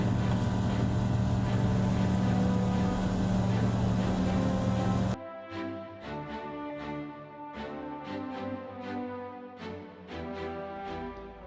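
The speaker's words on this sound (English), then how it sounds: "We again took off first from runway 23" Light aircraft taking off from runway 23 at Stellenbosch: a loud, steady engine and wind drone for about five seconds, then it abruptly gives way to music with a regular beat.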